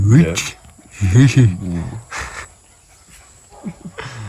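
Quick, rhythmic panting breaths from a dog close by, in bursts with short pauses between them.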